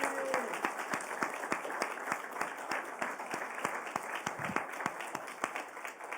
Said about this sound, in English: can we give Quinn like a round of applause here